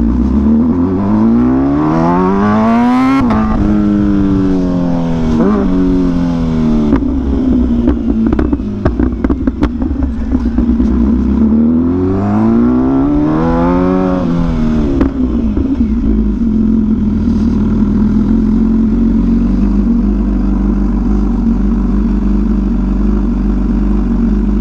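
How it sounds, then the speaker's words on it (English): An MV Agusta motorcycle's exhaust revving hard near redline, rising and falling in repeated sweeps of pitch, loud and close before settling into a rough, throbbing idle with no talk over it. "I think this is one of the best sounding exhausts"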